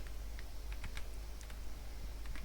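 Quiet typing of C++ code on a computer keyboard, with a steady patter of faint, light key clicks over a low background hum and no voices.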